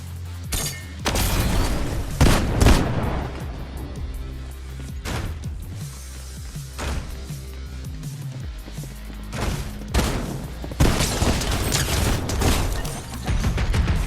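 Repeated gunshots from a pistol in a video game firing at a bot, loud and close, coming in bursts with short gaps and some heavier booming impacts between them.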